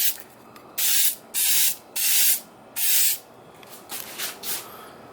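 Dupli-Color spray paint going onto car trim pieces: four loud, close bursts of hissing spray with short pauses, then a few shorter, softer puffs.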